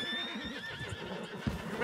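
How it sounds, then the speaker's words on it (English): A horse in the video game Red Dead Redemption 2 whinnies loudly and close, its wavering neigh running through most of the short moment, with a brief thump near the end and no talk. "get on the horse."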